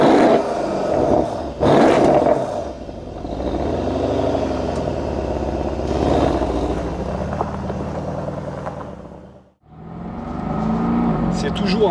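A 2016 Mercedes SL 63 AMG V8 roars loudly and steadily, rising and falling through revs with a brief lull near the end before surging again.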